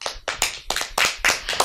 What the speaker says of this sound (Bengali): একটা জোরে হাততালি দাও